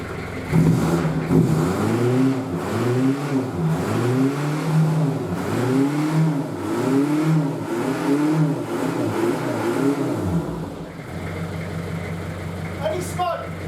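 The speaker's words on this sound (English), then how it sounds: "So I'm going to start the car, just make sure everything works." A converted London taxi engine starts and revs in steady rising-and-falling surges, loud and close, then drops to a lower idle near the end.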